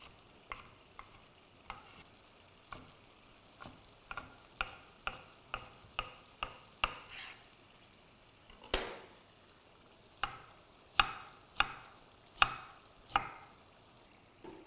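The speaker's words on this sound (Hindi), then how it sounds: "मोटा मोटा चॉप करना ताकि जूसीनेस रहे।" A knife chops soya chunks (nutri) coarsely on a board for Amritsari nutri kulcha: a run of sharp, separate taps, sparse at first, then quicker and louder near the end, heard alone without speech.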